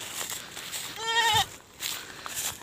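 A farm goat lets out a single clear, wavering bleat, close and fairly loud, amid quiet outdoor background noise.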